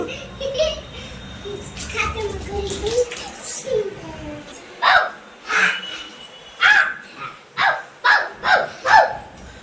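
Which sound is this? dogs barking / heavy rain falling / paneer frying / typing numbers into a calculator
dogs barking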